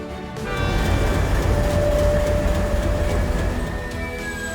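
A freight train on the railway line beside a grain silo rolls past with a dense, continuous rumble and clatter, faint metallic squeals riding on top, loud and steady throughout.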